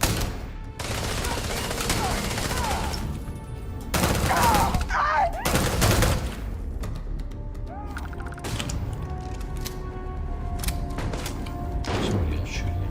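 Gunfire in the video game Starfield comes as repeated loud bursts and rattling volleys over several seconds, mixed with thuds and mechanical clatter, with game voices now and then.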